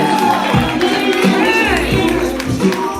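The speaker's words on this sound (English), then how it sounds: "Make some noise for that poet one time." Crowd at a live poetry open mic makes noise for a poet, loud cheering and scattered clapping mixed with shouting voices and some background music, busy and close.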